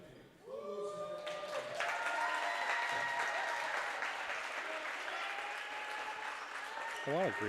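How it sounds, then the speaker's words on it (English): Greenup County fans clapping in a high school basketball gym after the trophy presentation, sustained crowd applause rising quickly and holding steady, with a commentator's voice and a whistle-like tone over it. "A lot of Greenup County fans clapping too."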